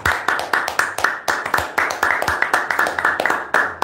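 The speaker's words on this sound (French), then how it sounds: "Applaudissons pour le Seigneur." A church congregation claps for the Lord in a brisk, rhythmic beat, loud and close, sharp regular strokes in unison repeating steadily with no break.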